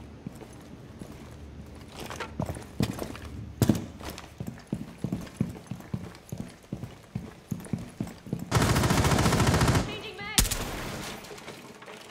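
Gunfire from a pistol in the tactical shooter game Rainbow Six Siege, a run of sharp single shots at an uneven pace, followed by a longer loud burst of noise near the end.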